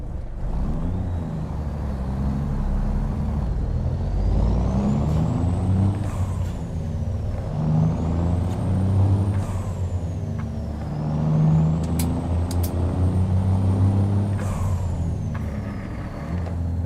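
A heavy truck in American Truck Simulator drones steadily as the driver rev matches through gear changes, with the engine pitch rising and falling repeatedly, plus a few short hissing bursts, all up close and without any voices.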